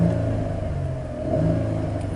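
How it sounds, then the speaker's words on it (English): A 2013 Chevy Camaro engine held in neutral with a rev limiter stopping it at 3,000 rpm, giving a steady, close rumbling drone with a slight swell midway, alone without talk. "let's start out by just doing a little rev."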